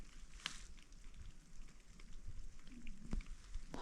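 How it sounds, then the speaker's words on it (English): Rain falls during a rainstorm in the wilderness woods, heard as a faint, soft patter with a few sharper drops tapping close by. "But I'm in a rainstorm."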